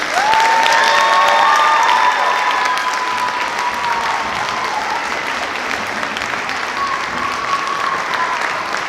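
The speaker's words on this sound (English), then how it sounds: "So one more round of applause for the band." Applause from a concert audience for a wind ensemble at a winter concert, a dense, steady wash of clapping across the whole span, loud at first and easing slightly, with a few cheers and whistles rising over it early on.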